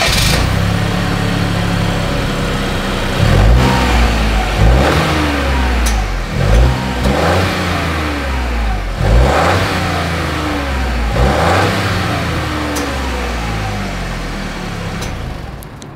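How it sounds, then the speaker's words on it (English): Exhaust of a 2025 Chevrolet Trailblazer SUV as the engine revs up and settles back again and again, a close, loud run of rising and falling blips over a steady idle. "As always, here is that exhaust clip."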